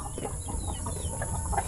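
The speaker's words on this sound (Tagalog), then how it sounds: "ito andito pala yung iba nating mga manok no." Several chickens cluck softly in short, scattered bursts at moderate distance, over a faint steady background hum.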